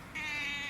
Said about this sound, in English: You alright there, cat?